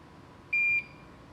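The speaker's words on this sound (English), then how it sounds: "Beep." A single short electronic beep, a clean steady tone lasting about a quarter second, sounds alone from a sensor device being tested, over faint background hiss.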